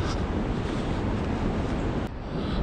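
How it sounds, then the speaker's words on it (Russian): Rushing torrent of the Urubamba river on the road from Cusco toward Machu Picchu, a dense continuous roar mixed with wind buffeting, steady and loud with no voices. "А слева слышите, как шумит река Урубамба"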